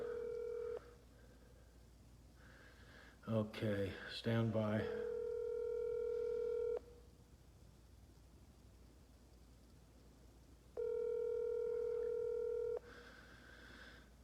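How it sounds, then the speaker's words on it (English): A telephone call placed from a live stream: a quick burst of dialing tones, then long, steady ringback tones repeating with pauses, close and clear, with someone briefly speaking between rings. "let's get this guy on the phone right now"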